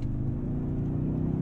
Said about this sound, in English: I like the sound of this powertrain. It's a little artificial, but it's fun.